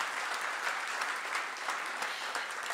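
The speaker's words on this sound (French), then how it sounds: "On peut l'applaudir déjà, bravo." Audience applause at an excellence gala, a steady wash of many hands clapping from a crowd in a hall, moderately distant and unbroken throughout.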